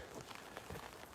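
Light sprinkling rain falling during an outdoor sunrise stroll, a faint soft patter of scattered drops at a distance, very quiet and steady with no talking.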